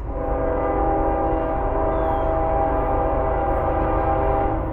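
CSX freight train 405 sounds its horn at a New Jersey crossing, one long, steady blast held for several seconds over the heavy rumble of the passing locomotive.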